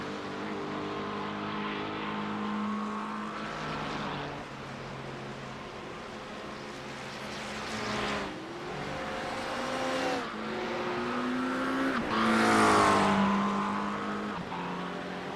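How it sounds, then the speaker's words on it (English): A race car on the Spa circuit in iRacing engine-brakes down a hill, its loud engine tone sliding and dropping in pitch through several downshifts, with a brief tyre squeal near the end. "The engine braking holds back better on this hill than I thought it would."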